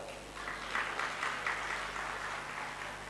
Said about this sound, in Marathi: टाळ्या वाजवा तिच्यासाठी, जोरात वाजवा